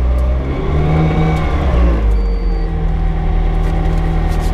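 A McLaren P1 GTR revs hard during wheel spin at the Goodwood Festival, its engine note rising and roaring close by with a rumbling, whirring tone for a few seconds.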